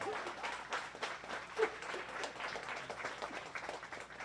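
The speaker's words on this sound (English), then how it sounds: "please give both of them a great round of applause" Scattered clapping from an audience at a bowling scholarship tournament, a modest, fairly quiet round of applause holding steady for a few seconds with faint background murmur.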